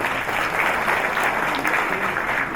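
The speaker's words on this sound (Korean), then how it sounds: "그럼 박수로 맞이해 주시죠" A hall audience claps to welcome a guest at an inauguration ceremony, a loud, even wash of applause sustained throughout.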